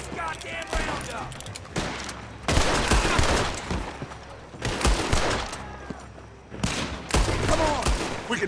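Repeated bursts of gunfire in the Western video game Red Dead Redemption 2, loud, close volleys and rapid shots in clusters, with game sounds between the bursts.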